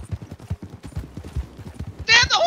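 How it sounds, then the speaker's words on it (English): Horse hooves galloping in the video game Red Dead Redemption 2, a quick rhythmic run of thudding hoofbeats close up, ending in a bright shrill whinny or squeal at the end. "Damn, the horse is not as fast now."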